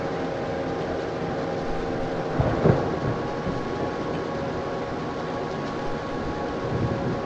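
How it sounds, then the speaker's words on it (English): Electric locomotive hauling a MARC Penn Line train in a train simulator video game, a steady low rumble and hum running throughout at moderate level, with a brief louder clunk near the middle. "The sound effects in the electric locomotive are not correct, but they still sound cool for a train simulator."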